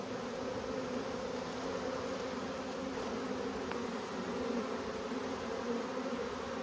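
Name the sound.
swarm of bees buzzing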